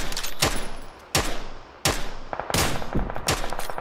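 Gunfire from a shooting video game: several loud, sharp broadband shots in quick succession, bursts spaced about every half to one second, close and dominant with no talk.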